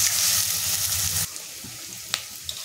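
Chopped onion sautéing in a hot pan, a steady close sizzle for over a second that then drops to a quieter crackle with a few sharp clinks of a spoon.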